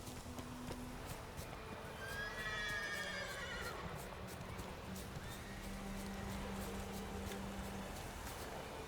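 A horse whinnies in a long, wavering call, with clip-clop hooves and ambient game sound beneath, in the video game The Witcher 3: Wild Hunt; moderately distant and fairly quiet.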